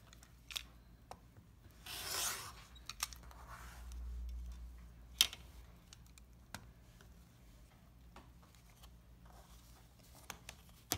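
Scissors or a trimming blade cut along black lines on paper-pieced fabric segments, producing scattered short snips and rustles of paper at close range in a quiet room.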